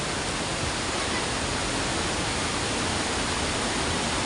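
Pondol waterfall surging after a typhoon, a steady, dense, loud roar of rushing water with no break across the whole span.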